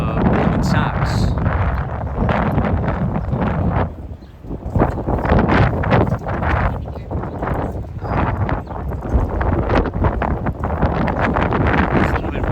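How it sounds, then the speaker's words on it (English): Steady wind buffets the microphone along a street on the west side of Lower Manhattan near the World Trade Center, a continuous loud roar with gusty rises and a short dip around four seconds. "It's a little bit windy on the west side"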